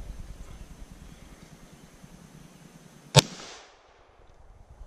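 A single sharp, loud gunshot from a Glock 10 mm pistol cracks close by over low background rumble. A brief echo follows, then quiet.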